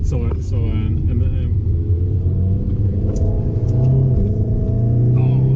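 An Alpine A110 engine drones and shifts pitch as it accelerates on a race track, steady and close, with someone talking over it.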